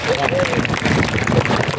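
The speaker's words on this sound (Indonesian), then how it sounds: "Ya tepuk tangan." Applause from a school assembly audience during a military visit to a junior high school, a short burst of dense clapping mixed with crowd murmur and a voice over it.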